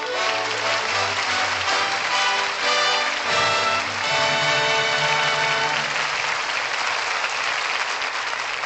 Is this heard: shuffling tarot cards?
no